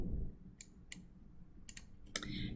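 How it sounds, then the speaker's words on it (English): Scattered light clicks of a computer keyboard as a short entry is typed, a few separated taps then a quick cluster near the end, faint and close, no voices. "So I will type in plot 1013"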